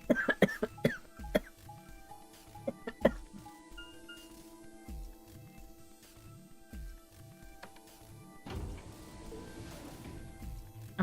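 A person who is taking medication coughs in several sharp bursts, clustered near the start and recurring at intervals over quiet background music.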